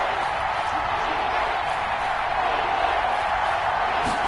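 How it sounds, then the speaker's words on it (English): Crowd noise in a video game American football broadcast, a dense steady roar of cheering fans building ahead of a big third down, loud and continuous without a clear voice on top. "The crowd getting into it as we come up on a big 3rd down."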